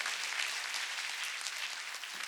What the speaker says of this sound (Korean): 박수로 하나님께 영광을 돌립니다.